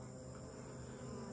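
Honey bees crowd onto a pollen patty in a hive, giving a faint, steady, continuous buzzing hum up close, with no talking.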